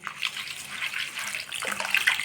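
Tamarind poha, flattened rice, being rinsed once in a bowl of water, giving a steady close splashing and swishing of water with a brief stronger slosh near the end, no talking.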